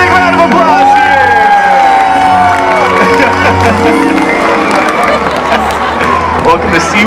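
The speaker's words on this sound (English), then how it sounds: "let's give them a big round of applause here!" A SeaWorld San Diego orca show crowd at the Orca Encounter cheers and whoops loudly, with clapping mixed into a busy roar of voices and shouts, close and continuous for several seconds.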